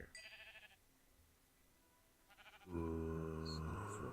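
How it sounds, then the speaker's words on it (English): Sheep bleat in the video game Minecraft: a short call, a pause, a second quick bleat, then a louder, longer bleat, all fairly close with nothing else prominent. "Sheep, get out of here."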